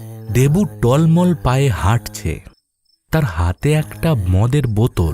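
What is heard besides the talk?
crickets chirping at night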